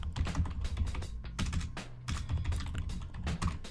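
Quick, steady typing on a computer keyboard, with close, crisp key clicks in a continuous run and a few heavier strokes. No one speaks.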